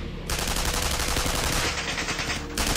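Soldiers' gunfire in a dramatic narration, rendered as a sound effect: a dense, continuous crackle of rapid shots like a volley or machine-gun burst, loud and steady throughout with no voices.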